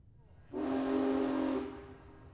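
An animated-series train sound effect: a single steady, whistle-like tonal blast lasting about a second. It rises suddenly, holds fairly loud, then fades into low rumbling background noise, with no talking.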